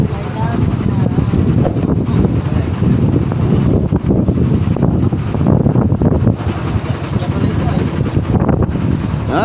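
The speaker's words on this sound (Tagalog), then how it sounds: "Medyo mahangin-hangin ngayon mga idol" Strong, gusty wind buffets the microphone in a constant roar, with faint lapping water and a voice barely audible beneath it.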